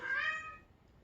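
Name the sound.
kittens meowing under a car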